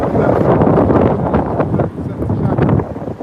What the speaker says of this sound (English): it's mad windy over here